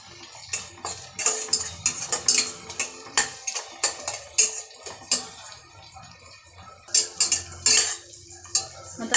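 Finely chopped tomatoes are stirred into fried onions in a pan, a spoon scraping and clinking against the metal in a busy, uneven rhythm of close, sharp taps with a faint sizzle underneath.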